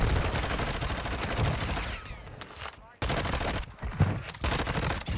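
MP7 submachine gun in a multiplayer shooter fired in rapid automatic bursts, dense and loud with a short gap mid-sequence, then another burst, under game noise and some talking.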